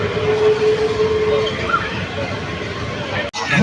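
A children's ride-on train at a busy village fair, the Charghat Diyara Jamuna Mela, rumbles steadily beneath crowd chatter, with a brief whistle-like tone early on and a sharp break near the end.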